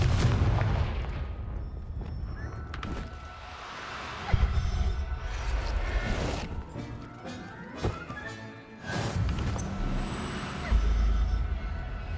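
Confringo blasting spell cast in the video game Hogwarts Legacy, heavy booming explosions and thuds repeating across the scene amid rumbling game effects and clanks.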